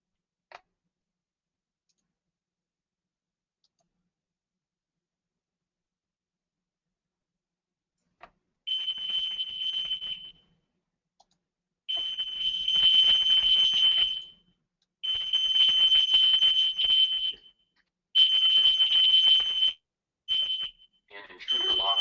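An Alertus emergency notification system demo sounds a loud electronic alarm in repeated bursts of high-pitched tone, starting after a long quiet stretch and pulsing on and off with short gaps.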